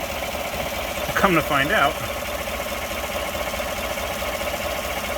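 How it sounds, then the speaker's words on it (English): A 5.3-litre V8 idling rough with a misfire from a plug wire pulled off its coil, its steady uneven chug running under brief talk near the start. "Disconnect it, it's got a misfire."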